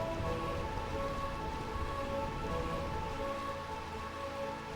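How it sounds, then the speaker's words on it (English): Steady rain falls in Burmecia, the rainy kingdom in Final Fantasy IX, a continuous even hiss without breaks and with no talk over it. "Oh god, it's always rainy here?"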